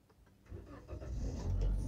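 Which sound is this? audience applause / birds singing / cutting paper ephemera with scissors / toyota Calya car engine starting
toyota Calya car engine starting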